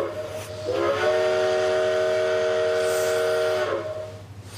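A passing train sounds a sustained whistle: a steady, harmonic tone held for about three seconds over a hissing background, rising in and fading out.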